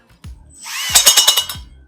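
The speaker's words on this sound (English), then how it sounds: "let's get drilling this hole so we can get that box in there" A power drill whirs up to speed and bores a hole in a shop attic in several rapid pulsing bursts, loud and close, with brief knocks before and after.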